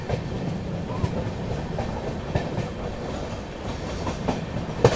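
The Paschim Express runs at speed, a steady rumbling roar with faint clickety-clack of wheels over rail joints heard from inside the coach, continuous and fairly loud.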